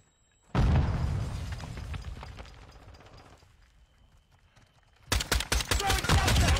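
A Semtex grenade goes off in a first-person shooter video game with a sudden loud close boom that fades into a rumbling tail, then a rapid burst of gunfire cracks in dense repeated shots near the end.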